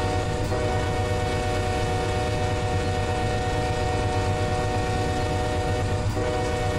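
A 9,000-foot intermodal freight train rolls on in a loud, continuous roar, with a steady droning hum and faint rail clatter running throughout.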